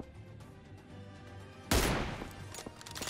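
Heavy gunfire in a PUBG-style battle royale game: a sudden loud burst of rapid shots cuts in partway through after quieter background, with dense crackling fire continuing to the end.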